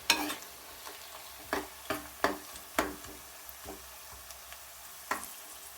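Onions frying in a pan for a bachelor-style prawn biryani, a steady low sizzle broken by sharp scraping clicks of a spoon stirring against the pan at irregular intervals, close and moderately quiet, with no talking.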